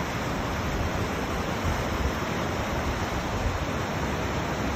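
The South Fork of the American River rushes below a bridge on Mosquito Road, a steady broadband roar of flowing water with no pauses or voices.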